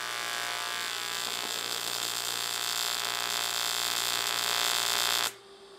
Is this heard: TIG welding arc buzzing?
yes